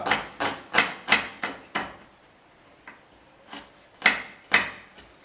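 A knife cuts shallots into thin rounds on a wooden board, with a quick run of six sharp chops, a pause, then a few more crisp cuts, close and clear with no talk.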